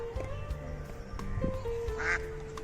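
Ducks quack in short nasal bursts amid a busy outdoor background, several calls scattered across the moment at moderate distance.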